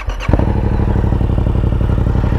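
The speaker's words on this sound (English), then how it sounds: "I'm just going to show you running noise to give you a walk around the bike" A Yamaha MT-07 motorcycle fitted with an Akrapovic carbon exhaust fires up close by, a brief starter clatter giving way to a loud, steady, low pulsing idle rumble.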